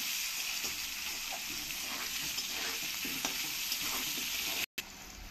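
Potatoes frying in oil left over from frying fish make a soft, continuous sizzle with light stirring, steady throughout before a brief cut near the end.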